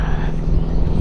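A Suzuki GSX R150 motorcycle engine with an Akrapovic exhaust and no dB killer fitted idles loudly and close at hand in a steady, deep drone. It lasts about a second with no voices.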